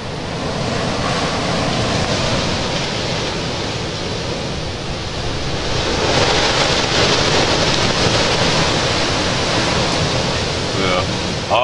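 Strong, continuous wind roars loudly with a broad rushing noise that swells and gusts throughout, with no voices present.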